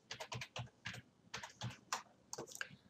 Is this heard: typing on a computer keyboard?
yes